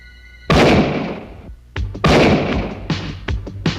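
Loud sharp bursts of gunfire from the 1987 film Hollywood Cop, one big blast then a rapid cluster of shots in an action scene.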